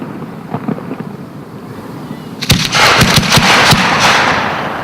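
Rapid, sharp bangs from fireworks set off by a New Jersey fireworks company crackle loudly in a dense burst after a few fainter pops, with wind rushing across the microphone.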